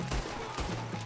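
Gunfire in Red Dead Redemption 2, a dense crackle of shots, with a couple of heavier bursts standing out over steady game ambience and a low hum.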